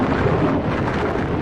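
Thunderstorm in the Mad Max video game, a dense, loud roar of rumbling thunder and heavy rain filling the whole moment with no voices.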